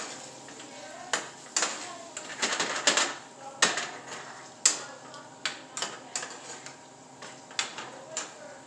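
Red wine vinegar hisses in a hot pan while being stirred for koshari, with irregular sharp scrapes and clinks of utensil on pan over a soft, low sizzle.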